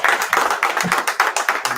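Audience clapping at a live scripture class in Killeen, Texas, a fast, even rhythm of sharp hand claps, close and loud, with no talk over it.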